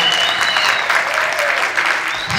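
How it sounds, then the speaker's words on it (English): An audience at an annual menorah lighting breaks into sustained applause, a continuous, fairly loud wash of clapping filling the whole stretch, with a voice speaking over it. "Please, a big round of applause, Rabbi Goldberg here."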